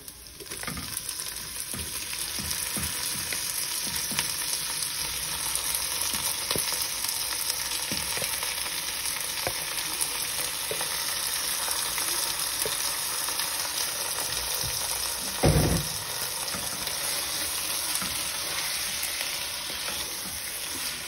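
Pork being fried with sautéed onion, garlic and ginger for dinuguan sizzles steadily and close in a pan, with scattered stirring clicks and one louder scrape partway through, no voices.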